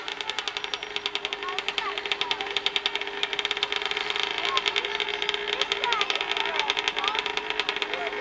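Kawasaki 80cc junior-class motorcycle at a New England hillclimb, its two-stroke engine buzzing steadily with rapid rhythmic pulses, moderately distant, under continuous announcer talk.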